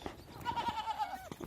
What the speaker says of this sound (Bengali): ঐতিহ্যবাহী শরীয়তপুরের ছাগল